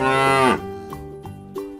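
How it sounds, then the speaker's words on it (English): A single cow moos loudly in a drawn-out, tonal low call lasting about half a second, then trails into quieter softer lowing with brief pulses, heard alone with no talk. "cow"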